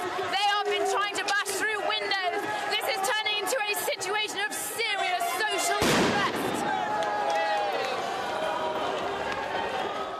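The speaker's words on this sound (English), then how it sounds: "There have been pyrotechnics." Pyrotechnics going off during a violent street clash between protesters and police, loud sharp bangs and booms amid shouting crowd noise and a voice talking over the chaotic din.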